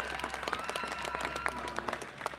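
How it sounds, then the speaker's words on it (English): A German crowd at an international medieval combat fight applauds and cheers, a dense, fairly distant patter of clapping with scattered sharper claps throughout. "And the German cheer goes up."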